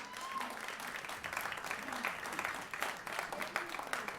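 An audience at a Brockton NAACP candidates' meet and greet claps their hands in steady, continuous applause, a dense patter of many hands at moderate distance, with a voice audible faintly beneath it.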